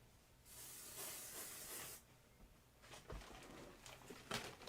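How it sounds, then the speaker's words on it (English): A steady aerosol spray of adhesive onto fabric hisses for about a second and a half, followed by quieter rustling and handling noises, close by. "Just spraying my background fabric."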